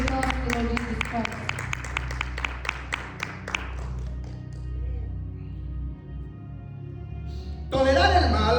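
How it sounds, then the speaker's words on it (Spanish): A church congregation claps in a steady, quick rhythm for several seconds over a low hum, then the clapping fades and a brief louder burst of sound returns near the end. "Give a round of applause to the Lord Jesus Christ"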